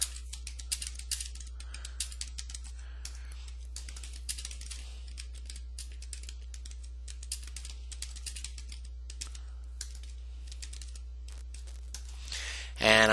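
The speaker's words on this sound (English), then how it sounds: "Now we can go ahead and type in whatever text we want" Rapid, steady keystrokes on a computer keyboard while text is entered into a WordPress post, close and fairly quiet, running continuously until a brief louder burst at the very end.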